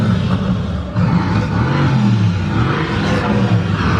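Mercedes-AMG GT S engine sound played from a small playback device at a Mercedes showroom, a deep, rumbling burble with uneven throttle blips, continuous and fairly loud with no voices.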